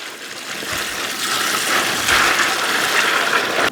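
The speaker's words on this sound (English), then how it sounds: "So I've got my meat lug full of ice. Just going to add some water." Water poured into a meat lug already packed with ice, a steady close splashing gush that builds and runs continuously, with no talk.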